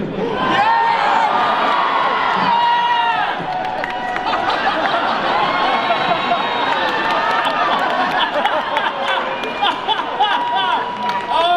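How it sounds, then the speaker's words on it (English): A large convention crowd at a panel cheers, whoops and chatters loudly and continuously, with scattered shouts and a few claps rising and falling throughout. "Look at all this big crowd"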